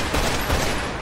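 Rapid gunfire in a video game as a player takes three headshots: a dense, loud volley of overlapping shots with sharp bursts throughout.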